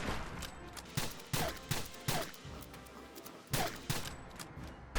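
Rifle shots from a Select Marksman Rifle mod firing .308 rounds in Fallout 4, a series of sharp separate cracks spaced about a second apart at moderate loudness, with no talk.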